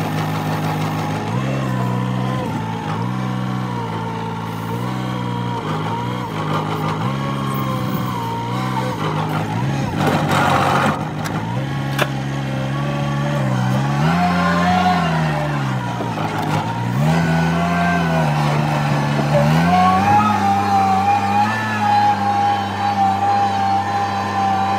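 A tractor's engine runs steadily close by while rock is loaded onto a trailer, its low drone rising and falling as it revs, with rumbling from the work in the middle.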